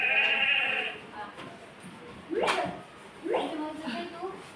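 Preschool children imitate a sheep bleating during a class activity about animal sounds. Several wavering, drawn-out bleats in young voices come in separate bursts over a faint room murmur.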